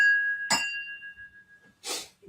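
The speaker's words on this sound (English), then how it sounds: "Oh, lovely ringing sound on that glass." Cocktail glass ringing as it is handled, a clear sustained tone after a sharp clink that slowly fades, followed by a brief rustle of handling, close and alone.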